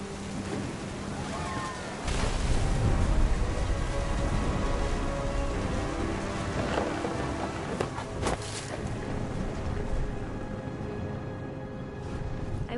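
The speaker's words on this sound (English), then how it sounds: "The thunder sounded much too close and full of angry power." A thunderstorm in the video game What Remains of Edith Finch, with steady heavy rain and a low rumble of thunder rolling in, then continuous downpour with a few sharper cracks later.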